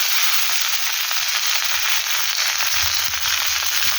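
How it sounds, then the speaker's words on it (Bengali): Onion and mixed vegetables (tomato, flat beans, beans, peas, potato) fry in oil in a pan for a Bengali bata fish curry, giving a steady, loud, dense sizzle with no talking. "এই সবজিগুলো ভেজে নিয়ে ফিরছি"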